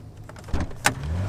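Electric sunroof motor on a 1980s Mercedes, a short whirring motor run with a couple of brief mechanical clunks, close and moderately loud, no talking.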